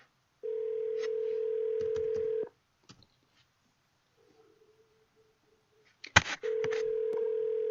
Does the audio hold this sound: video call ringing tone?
yes